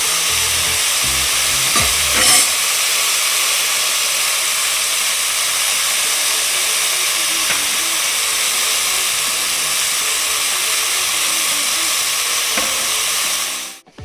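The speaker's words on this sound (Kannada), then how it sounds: "ಕೆಲವೊಬ್ಬರು ಹೀಗೆ ಬಾಣಲಿಗೆ ಹಾಕಿ ಎಣ್ಣೆಲಿ ಫ್ರೈ ಮಾಡಿ ಮೇಲಿಂದ ಹಾಕ್ತಾರೆ" Brinjal fries in oil in a pan with a loud, continuous sizzle and hiss that holds steady throughout, broken by a couple of brief stirring knocks near the start. It cuts off abruptly at the end, and no one speaks.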